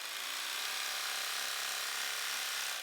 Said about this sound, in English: I'm gonna take them over to my serging machine and I'm gonna overlock the crotch, the inner thigh, and the outer seam